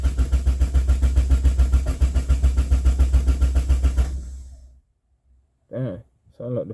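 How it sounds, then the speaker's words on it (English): Car engine cranking over repeatedly without firing, a rapid rhythmic starter chug for about four seconds before stopping, followed by someone speaking; fuel pump dead. "Damn, sound like the fuel pump is dead. Well, at least it cranks over."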